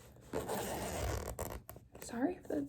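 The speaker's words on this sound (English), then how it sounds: "sorry if the zipper's kind of loud" The zipper on a small pocket of a college backpack is pulled open in one long rasping sweep, close and fairly loud, followed by rustling and a soft voice speaking.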